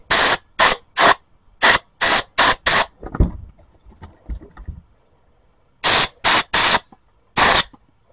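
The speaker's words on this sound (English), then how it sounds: "take your air compressor and blow through everything real good" Compressed air from an air compressor nozzle blasts through a riding mower carburetor in repeated short, loud hissing bursts, several in quick succession, then a quieter stretch of handling clatter before more sharp bursts.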